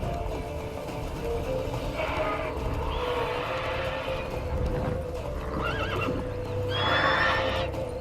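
Roach, a horse in the video game The Witcher 3, neighs and whinnies several times among clip-clopping hooves, with the calls rising clearly over a busy background.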